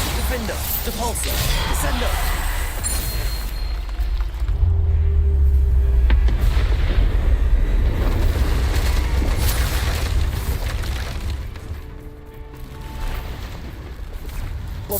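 Loud blasting spell explosions in a video game, one deep booming blast after another with rumble and whooshes, continuous and dense across the whole stretch.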